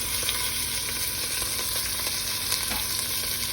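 Beef stew for Puerto Rican carne guisada with garlic, Spanish olives and tomato sauce sizzles loudly and steadily in a pot, with faint scraping stirs running under the constant frying hiss.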